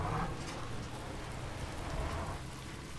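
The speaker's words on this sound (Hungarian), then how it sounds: "Megerett az eső, vagy mi történt?" Rain pours in the Spintires off-road truck game on a Chernobyl map, a continuous heavy hiss with a low rumble beneath, fairly loud and steady with no voices.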